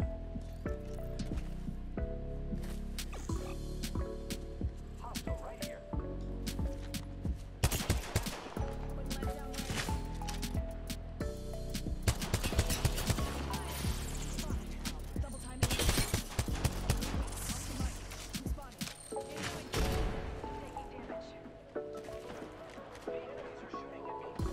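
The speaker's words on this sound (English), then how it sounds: "Shooting at me." Gunfire in a ranked solo-queue shooter match: scattered bursts of automatic shots and single cracks come in clusters across the span, some loud and near, others fainter, with game effects and a player talking over it.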